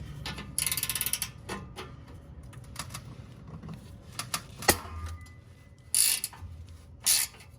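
A ratchet wrench with a 1/2 inch socket works loose 50-year-old bolts on a 1972 Corvette. It gives off scattered close clicks and metallic ratcheting bursts, with a few sharper clanks between quieter stretches.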